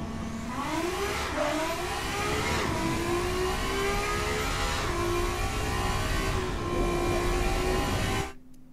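Engine of a Fiat Cinquecento race build with launch control and sporty suspension in the game Automation, revving hard and climbing through several gear changes over eight seconds, loud and steady, then cutting off abruptly.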